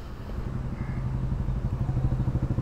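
A Suzuki Gixxer SF 150 motorcycle idles with a steady, throbbing low exhaust note, close and continuous with a slight rhythmic pulse, and no voices over it.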